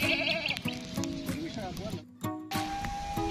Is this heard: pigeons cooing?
no